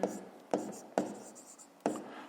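Pen writing a maths solution on paper, four distinct scratchy strokes in an uneven rhythm, faint and close.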